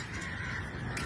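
A person imitates a crow's caw with a short raspy call during a school event. The call is faint and set against steady background noise, with no other speech.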